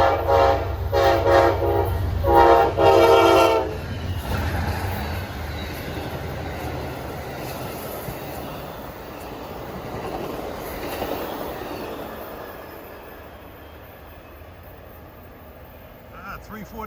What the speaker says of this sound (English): that was Amtrak 92, the Silver Star from Florida to New York. They put on a good horn show